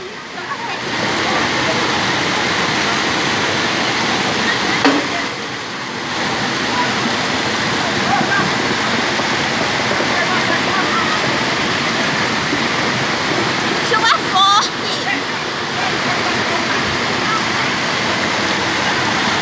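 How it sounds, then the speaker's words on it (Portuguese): Floodwater from a river overflowing after heavy rain rushes through the streets of a town, a loud, continuous roar of churning water close by, with a person talking over it at times. "a água invadiu a casa."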